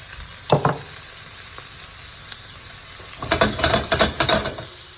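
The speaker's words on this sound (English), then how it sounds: "And then we're going to add in the chopped up onions." Chopped onions hit hot oil in a pan on medium heat, a steady close hiss joined by a burst of rapid crackling pops near the end, with no one speaking.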